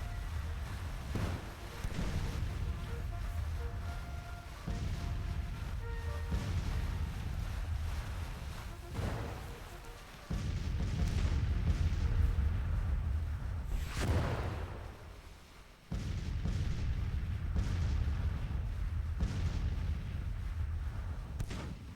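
Artillery cannons fire in a Civil War video game, heard as repeated heavy booms with rumbling low ends over a constant windy battlefield ambience, spaced irregularly every few seconds.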